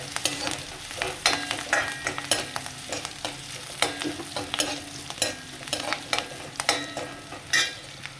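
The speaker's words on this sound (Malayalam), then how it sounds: "ഇനി സവോളയും പച്ചമുളകും കറിവേപ്പിലയും ഇതിൻ്റെ കൂടെ മൂത്ത് വരട്ടാം" Onion, green chilies and curry leaves sauté in hot oil, a steady sizzle broken by repeated scraping stirs of a spoon against the pan, close and fairly loud with no talking.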